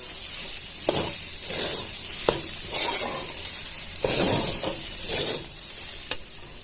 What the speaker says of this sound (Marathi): आपण आता कोंडा असं परतून घ्यायचा सारखं परतत राहायचं आपल्याला